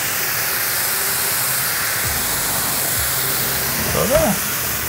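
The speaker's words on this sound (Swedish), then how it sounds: "Jag måste steka några mer burgare." Burgers fry in a pan with a steady sizzling hiss, loud and continuous, with faint voices underneath and a brief clatter near the end.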